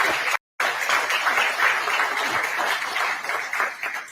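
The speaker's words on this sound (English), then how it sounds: "a round of applause to thank President Ruto." An audience applauds President William Ruto at a high-level U.S.–Kenya business and investment event, with sustained, dense clapping broken by a brief dropout near the start.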